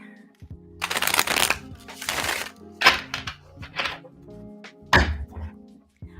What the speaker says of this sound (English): Let's get this nice shuffle going.